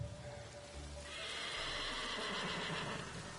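A horse from a Mongol-era setting neighs in a video game, a loud, drawn-out whinny that swells after a quiet start and holds for a couple of seconds over soft background patter.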